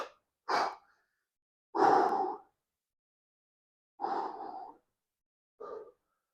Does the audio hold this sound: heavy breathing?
yes